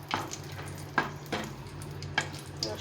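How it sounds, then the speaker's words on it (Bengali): Cashew nuts roasting in ghee in a pan, a faint low sizzle with a handful of soft spoon scrapes and taps at irregular intervals, close and quiet. "এর মধ্যে একটু কাজু বাদামগুলো একটু রোস্ট করে নেব।"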